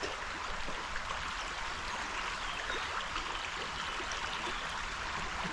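Steady, continuous rush and babble of the young upper Danube flowing in its narrow channel, a close, even wash of water with no voices over it.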